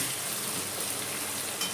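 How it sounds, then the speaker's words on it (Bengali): Pumpkin pieces sizzle in a frying pan as they are stirred, giving a faint, steady crackling hiss. "কুমড়োটা আমি হালকা নাড়াচাড়া করে নিই।"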